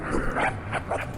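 A three-headed dog in the game Zeus: Master of Olympus yapping like a small Jack Russell, three or four quick high little barks over a steady game background hum.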